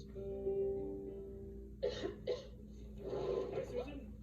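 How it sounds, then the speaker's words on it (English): A woman in a Robitussin cough syrup commercial coughs twice in quick, fairly loud bursts, followed by a longer rough cough run, over a faint background hum. "that cough looks pretty bad"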